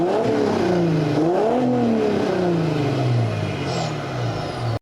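A common-rail V6 turbo diesel engine developed by Audi revs up and eases off in smooth rising and falling sweeps, loud and close, with a steady low drone underneath.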